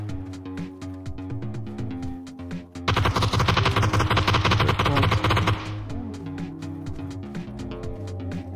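Gunfire in the battle royale game PUBG: a dense, loud burst of rapid automatic shots lasting about three seconds, set between quieter stretches of game ambience and music-like background.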